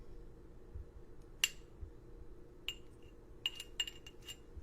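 A glass object is tapped and clinked, giving sharp bright ringing ticks: one alone, another, then a quick cluster of several taps, quiet and close over a low steady room hum.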